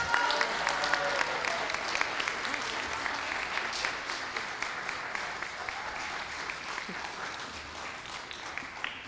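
Audience applause at a book presentation, dense and sustained clapping from a seated crowd that slowly tapers over several seconds, with a few voices beneath.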